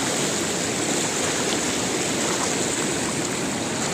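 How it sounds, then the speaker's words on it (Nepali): A strong river stream rushes steadily and loudly close by, a dense continuous roar of flowing water with no talk over it. "माथिबाट चाहिँ खोला चाहिँ ठुलै आइराखेको छ"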